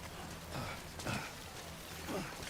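Steady rain hisses in the Death Stranding game world, a dense, even wash of drops on surfaces with a few soft swells, no voices over it.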